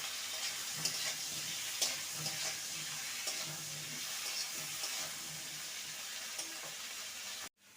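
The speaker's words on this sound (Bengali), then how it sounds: "ফুলকপিটাকে ভেজে নেবো" Cauliflower fries in a pan of hot oil with a continuous close sizzle, soft spatters and occasional stirring scrapes, cutting off abruptly at the end.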